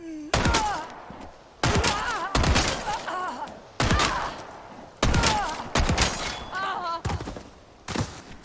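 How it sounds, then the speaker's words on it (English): Chicago Sweeper fired in Resident Evil 4 Remake against a Ganado enemy, seven loud, sharp gunshots at irregular intervals, each with a booming tail, mixed with shouting and grunting from the enemy between shots. "it only took 7 shots from the Chicago Sweeper to take down a Ganado"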